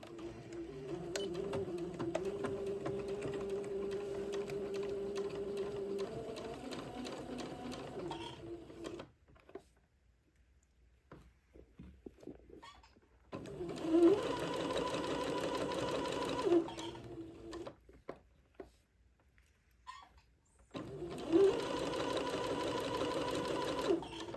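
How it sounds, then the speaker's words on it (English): A home sewing machine stitches a cuff onto a sleeve in bursts of steady, close whirring, with quiet pauses between runs as pins are removed and faint movement in the gaps. "I'm going to sew the cuff to the sleeve"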